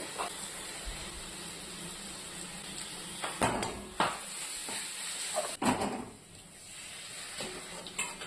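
Onion paste fries in a pan with Kashmiri chilli powder, a low steady sizzle beneath several close, distinct clanks and scrapes of a spoon against the metal pan, with no talk.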